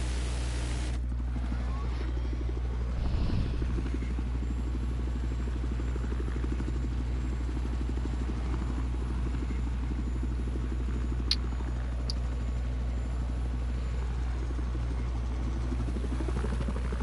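Helicopter in a multiplayer video game, a steady low rotor drone and engine rumble running the full length, loud and constant, with a brief burst of disturbance early on.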